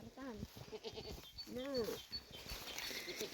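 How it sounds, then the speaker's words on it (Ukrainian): Goats on a small family farm bleat several times at close range, wavering cries rising and falling between soft rustling and a few quiet voices. "Козички, козички."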